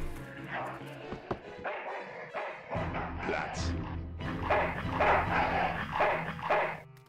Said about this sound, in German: Ziemlich verhaltensgestörter Köter.